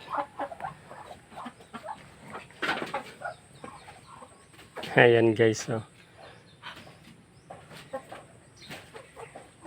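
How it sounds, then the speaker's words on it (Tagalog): Chickens and ducks cluck and chatter in a farmyard while feeding on Madre de Agua, with a louder burst of calls in the middle and a person talking intermittently throughout. "mga pato at saka manok"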